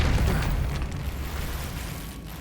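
Depulso spell cast in the Hogwarts Legacy video game on Xbox Series S, a loud booming magical burst with a rumbling low end that decays into a fading whoosh over about two seconds.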